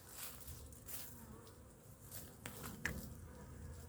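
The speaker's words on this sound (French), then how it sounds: "Les abeilles elles bossent." Honeybees working at beehives in late July give off a continuous, dense buzzing hum that stays fairly close, with occasional louder passes and a few soft taps and rustles.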